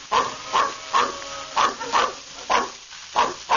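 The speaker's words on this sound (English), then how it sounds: "All right, big dog with the big voice." A big dog barks in a steady run of loud, deep woofs, about seven evenly spaced barks, heard close and alone with no talk over them.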